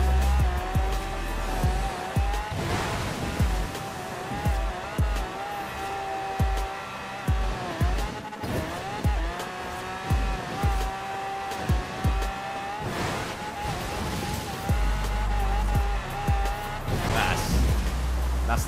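A BMW X6 engine at full throttle in Forza Horizon 4, droning high and steady while rising and falling through gear changes, with tyre squeal and scattered knocks throughout.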